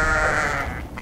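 A sheep bleats loudly and close by as it is being caught in Uzbekistan, one drawn-out wavering cry that fades at the end.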